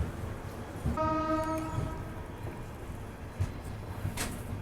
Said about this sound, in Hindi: अमरावती पुणे एक्सप्रेस भी आ रही है